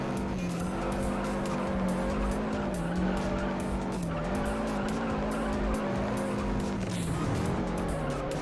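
Race car engine roaring continuously in the Juiced racing video game, with sustained tire squeal and skidding throughout, loud and steady with pitch dipping and rising through gear shifts.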